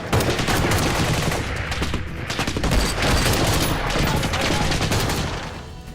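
Sustained heavy gunfire in combat, dense overlapping bursts of automatic weapons rattling continuously at close range and loud throughout.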